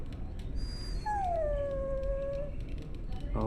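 A dog in Dragon Age lets out a long, drawn-out howl that bends into a whine, rising then sliding down, heard close over a low background hum, with a short sharp yelp at the end.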